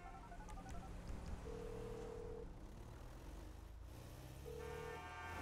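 A cell phone call being placed in GTA V: faint electronic beeps, then two long steady tones a few seconds apart, over a low background of traffic-like game ambience.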